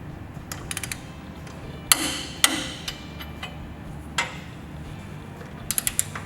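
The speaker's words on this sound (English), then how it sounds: "Torque the 9/16 swivel link hardware to 110 foot-pounds." A torque wrench ratchets as it tightens 9/16 swivel link bolts to 110 foot-pounds on a vehicle's rear axle. Faint, sparse clicks and a few sharper metallic ticks sound over a steady background hiss.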